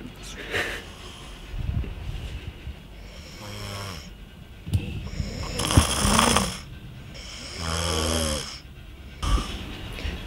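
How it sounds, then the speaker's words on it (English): Loud snoring repeats in slow cycles, each rasping inhale followed by a pause, with bits of speech and a snort breaking in between. "Always fucking snoring."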